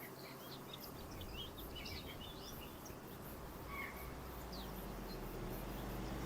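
Small bird chirps sound faintly and intermittently over a steady, loud background hiss of ambient noise in a Farming Simulator 25 game scene, with no talking.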